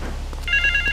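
Telephone ringing in Grand Theft Auto III, a steady electronic ring that starts partway through over a low rumbling background hum, loud and close with no voices.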